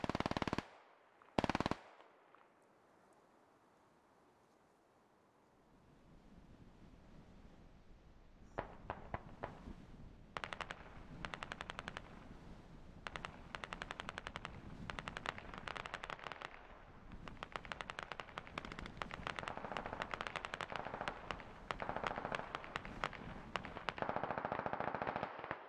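Squad battlefield gunfire: a loud opening burst, a quiet stretch, then continuous distant and mid-range automatic fire with sharp cracks that builds and persists throughout.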